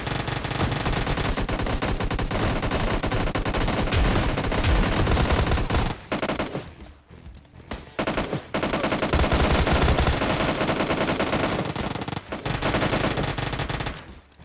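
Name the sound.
Uzi and shotgun gunfire in video game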